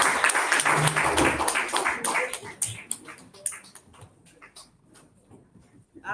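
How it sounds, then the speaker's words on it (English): Applause for guests standing at the front of a Toastmasters club meeting, strongest in the opening seconds and thinning into scattered claps before a brief late burst, with some talk mixed in. "Big round of applause."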